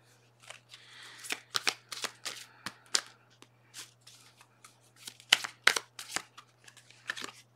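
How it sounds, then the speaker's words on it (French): Tarot cards being shuffled and drawn, close crisp riffles and flicks in irregular bursts over a quiet background hum, no speech. "On me dit de tirer toutes les cartes avant de faire la lecture."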